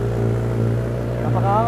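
A 2022 Suzuki GSX-S 1000 fitted with an original Yoshimura R11 exhaust idles with a steady, deep, throbbing drone. Someone talks over the engine throughout this brief moment.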